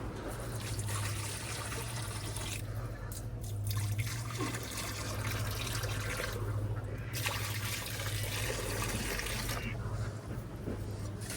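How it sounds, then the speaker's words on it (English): Water poured from a jug into a rabbit's dish, a steady faint trickle and splash continuing for several seconds over a constant low background hum, with no talk. "I still have like a full jug here, so I'm gonna give them more actually"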